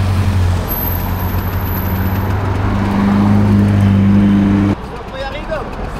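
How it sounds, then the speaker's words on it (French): A Ferrari passes on the road, its engine a steady loud drone that swells and then drops away abruptly, heard from inside another vehicle on a road trip across a border. "Oh, Ferrari."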